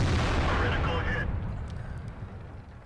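A World of Tanks shell impact bursts loud and close against a tank, a heavy booming crash that quickly decays into a rumbling tail.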